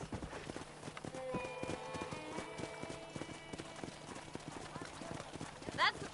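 Rhythmic horse hooves clip-clop steadily in Red Dead Redemption on PS5, mid-distance, with game dialogue and ambient tones over the hoofbeats.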